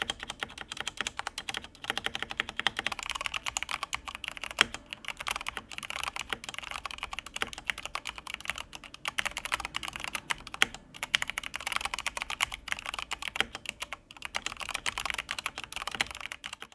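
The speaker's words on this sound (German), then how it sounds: "Hier sind unbearbeitete Cherry MX Speedschalter drauf" Continuous fast typing on a Mountain Everest Max mechanical keyboard fitted with stock Cherry MX Speed switches, a dense, even patter of crisp keystrokes with occasional louder presses, close up and with no talking.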